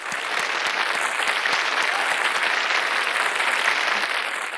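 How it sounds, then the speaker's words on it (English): At a philanthropy awards event, an audience gives judging panelists a long, sustained round of applause, a dense and even crowd of clapping that stays full throughout. "Please join me in giving them a huge round of applause."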